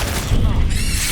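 The Incendio fire spell is cast in Hogwarts Legacy, a short, loud low whoosh-boom that lasts about a second, with a voice speaking over it.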